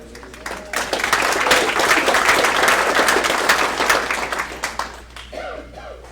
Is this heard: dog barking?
no